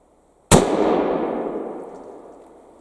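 A single loud, close gunshot from a .58 caliber Colt M1861 Special rifle musket bursts after a brief silence, then rolls into a long fading echo that trails off over about two seconds.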